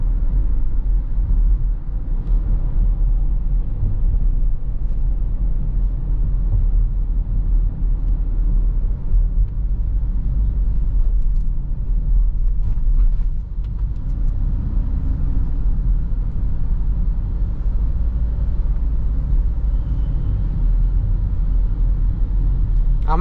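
A Toyota Hiace JDM premium van cruises slowly in automatic, giving a steady low engine and road rumble with faint traffic noise, continuous and fairly loud from inside the cabin.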